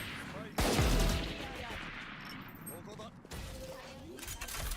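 Video game gunfire, a loud sharp burst followed by a rattle of rapid shots and a second burst, with game sounds and people talking throughout.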